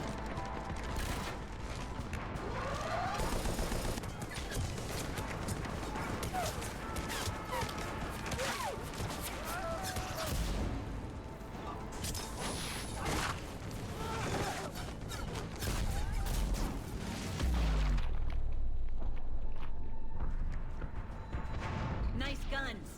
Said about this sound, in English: Cannons are a go!